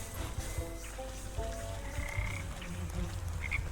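Frogs croak near a pond in the video game Wytchwood, several overlapping throaty calls over a low ambient bed, moderately loud and close with no talking.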